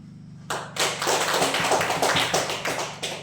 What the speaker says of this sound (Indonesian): Beri aplaus kepada kelompok 3.